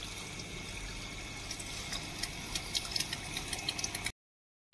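Water trickling and dribbling from a cracked gearbox chamber on a BMW 5 Series in a repair workshop, a steady faint splashing flow with a quiet mechanical hum underneath, cutting off abruptly near the end.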